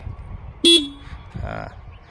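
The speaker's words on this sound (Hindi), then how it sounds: "तर चला तर आपण बघूया हॉर्न कोणतं आहे हे।" A TVS Jupiter 125 Smart Connect top-model scooter, 2024, sounds one short, sharp horn toot up close, followed moments later by a brief spoken voice.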